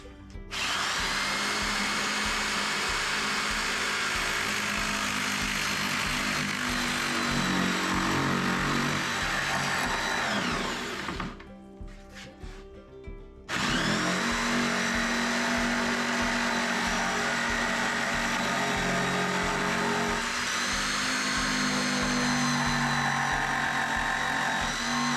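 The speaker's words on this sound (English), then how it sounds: "I'm going to get my jigsaw geared up and I'm going to cut that out." A jigsaw makes a plunge cut through a wooden computer desktop, a loud, steady buzzing rasp that runs for about ten seconds, drops out briefly, then resumes for another long stretch of continuous cutting.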